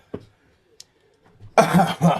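A person imitates coughing with a short throaty burst, a brief pause, then two harsher forced coughs close to the microphone, alone without other sound.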